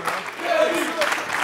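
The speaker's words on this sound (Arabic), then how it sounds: "يلا تصفيقة كبيرة على الكرونيكر الكل اللي شارك معنا" A studio audience on a TV show gives a brief burst of applause, a short wash of clapping mixed with some background voices.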